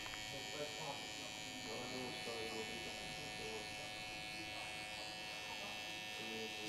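Electric hair clipper with a mid-length guard comb polishing a mid fade haircut, a steady close buzzing hum throughout while someone talks over it.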